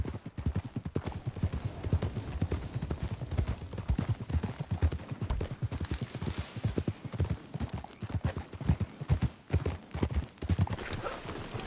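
Horse hooves in the video game Red Dead Redemption 2 clop in a quick, steady gallop rhythm throughout, moderately close and continuous.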